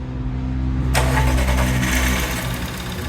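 A 2017 Volkswagen Vento engine, just repaired after a timing chain tensor replacement, cranks and catches at about one second, then settles into a loud, steady close-up idle with a faint rev.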